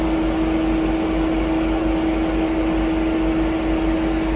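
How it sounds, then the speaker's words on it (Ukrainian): A steady mechanical hum with a constant low tone and broadband whoosh from an Opel Zafira B radiator cooling fan running continuously, close by with no talking. "Так, що чуємо, все, вентилятор знову включився."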